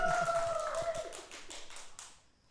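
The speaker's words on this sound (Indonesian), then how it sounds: "Coba mana tepuk tangannya Sobat Sopi?" A small live audience applauds at a stand-up comedy show, scattered claps that start with a short whistle or cheer, then thin out and fade quickly over a couple of seconds.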